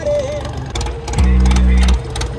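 A new John Deere 5050D tractor engine runs close by, a low steady drone that swells louder and deeper for about a second in the middle as it revs, then settles back to its running note.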